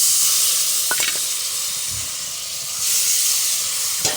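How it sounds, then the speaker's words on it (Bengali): Water poured onto sautéed chicken on a clay stove sets off a loud, steady hiss and steam sizzle that swells again near the end, with a few faint clinks. "চিকেনটা কিন্তু কষানো হয়ে গেছে। এখন আমি একটু জল দিয়ে দিচ্ছি।"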